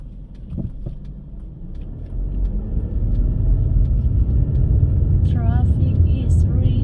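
Road traffic passes in a steady low rumble of car engines that grows louder and denser, with a faint high squeal near the end and people talking over it.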